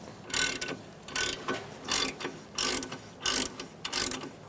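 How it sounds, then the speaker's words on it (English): A ratchet with a 7mm Allen socket loosens the brake caliper pins on a Fiat's front brakes, giving a close, rhythmic series of about seven quick clicking strokes separated by short pauses. "Using a 7mm Allen wrench socket, we're going to loosen up these pins."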